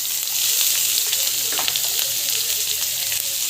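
Chopped onions, garlic and curry leaves sizzle steadily in a hot oiled pan while being stirred for a tomato thokku, a continuous close frying hiss with occasional louder spits.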